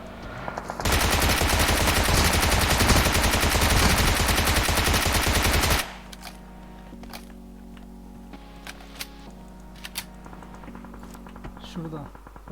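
Loud, continuous automatic gunfire in the PUBG Mobile video game, then quiet with scattered faint clicks and taps.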